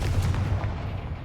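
A booming spell blast from a video game, the Confringo fire charm, landing as a dense low rumble with a sharp onset that sustains loud through the whole short moment, with no speech over it.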